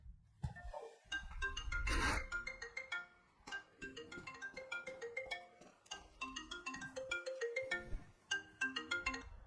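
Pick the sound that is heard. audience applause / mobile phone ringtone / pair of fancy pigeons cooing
mobile phone ringtone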